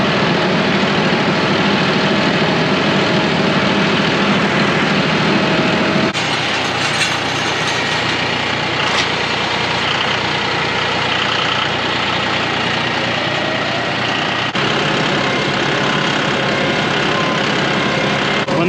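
A ranch tractor's diesel engine idles loud and close for nearly twenty seconds, a steady low rumble whose tone shifts slightly partway through, with no voices.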